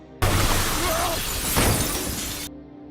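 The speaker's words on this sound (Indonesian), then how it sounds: "Sementara itu, Tyler dan Zurab terlibat duel maut di atas kanopi kaca hingga si Zurab pun terjatuh." Glass canopy shattering as a man falls through it during a fight in an action film: one loud, sustained burst of breaking glass lasting about two seconds, then cut off abruptly.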